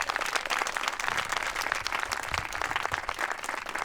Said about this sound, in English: How about a big round of applause for Mary?